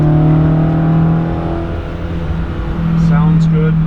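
A 1972 BMW 2002tii Alpina A4 engine accelerating: a steady, loud engine drone heard from inside the car that swells, dips briefly, then rises again, with someone talking over it near the end.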